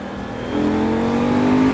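A KTM Duke 790 motorcycle accelerating with its quickshifter: a steady engine drone rises in pitch and loudness, heard from on board, continuous with no speech.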